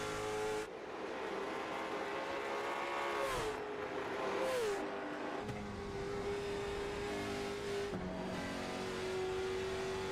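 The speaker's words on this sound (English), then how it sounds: "listening to the RPM difference, Frank Barbery's got a lot more gear in this" A race car engine revs loudly and steadily during a race at Nashville Fairgrounds, its pitch dropping and climbing through gear changes, close by with no talking.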